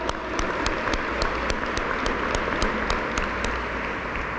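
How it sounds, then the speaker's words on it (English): An indoor audience at an Asian Pacific Heritage Month community event applauds with steady, moderately loud clapping that carries on throughout without talk. "So can we give her applause?"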